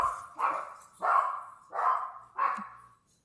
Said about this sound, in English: My dogs have just made their appearance.